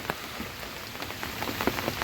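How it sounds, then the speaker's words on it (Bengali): Heavy rain from Cyclone Remal pours down outdoors during a fishing trip under dark skies, a dense, steady patter of drops hitting surfaces with no voices. "বৃষ্টির পরিমাণ বেড়ে গিয়েছে, অনেক বৃষ্টি পড়ছে।"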